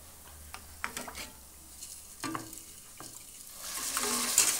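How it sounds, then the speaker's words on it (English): Stock is ladled into risotto rice while it is stirred, soft scraping strokes and gentle sizzling in a pan, quiet and close, with the bubbling rising toward the end. "So just ladle the stock in"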